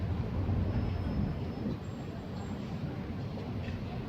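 An Electrostar electric multiple unit pulls away from Sittingbourne station, heard as a faint, steady rumble with a thin high whine, from a platform.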